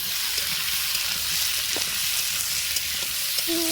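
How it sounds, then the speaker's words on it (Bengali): Onion and potato fry in a pan over a traditional clay stove, giving a close, constant sizzling hiss with small crackles and a faint brief tone near the end. "ভালো করে পেঁয়াজ আর আলুটা ভালো করে ভেজে নিলাম"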